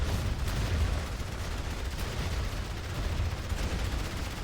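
Sustained MG42 machine gun fire in the real-time strategy game Rise of the Reds, a dense, continuous roar of rapid shots with rumbling battlefield noise, loud and steady throughout with no talk.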